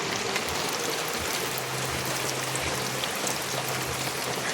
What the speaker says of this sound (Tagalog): Nag-uulan na naman, guys. Maulan dito sa amin.